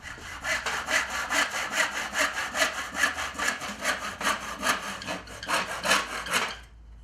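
A hand saw cuts through reclaimed wooden banister spindles in a close, loud run of rhythmic back-and-forth strokes, roughly two per second, ending abruptly as the cut finishes.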